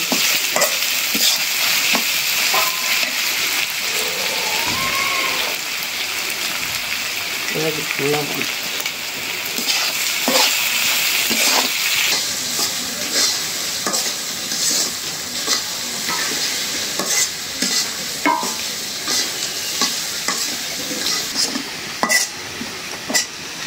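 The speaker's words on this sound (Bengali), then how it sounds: "পেঁয়াজ ভাজা হয়ে গেল" Onions fry in oil in a pan while being stirred, giving a steady close sizzle broken by repeated scraping strokes of the spoon throughout, with no talking.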